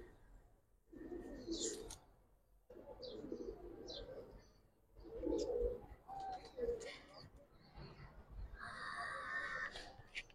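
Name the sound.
giribaz pigeons cooing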